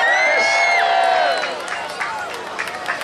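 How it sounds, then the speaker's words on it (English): A crowd at an outdoor Christmas fair in Comber cheers and whoops for Santa, high excited voices loud at first, then thinning into scattered clapping and calls. "Cheer for Santa!"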